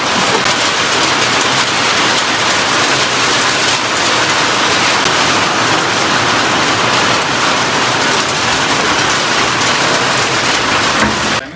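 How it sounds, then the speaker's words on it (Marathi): Steady rain pours down during the Naneghat trek on a mountain pass in Maharashtra in the evening, a dense, continuous hiss of drops that stays loud and unbroken throughout. "आताच पाऊस सुरू झालेला आहे,"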